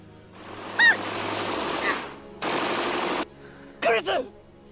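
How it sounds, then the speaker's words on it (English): Gunfire erupts in the video game Steins;Gate during a smoke-filled crossfire, two sustained bursts of rapid shots separated by pauses, with short sharp vocal cries over a low background hum. "And Kurisu has just been shot in the crossfire."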